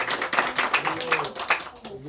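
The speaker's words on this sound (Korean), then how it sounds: "우리 박수 한번 해주세요." A church congregation at a Sunday morning service claps in a quick, rhythmic burst of several beats, heard close and moderately loud while a voice talks over it.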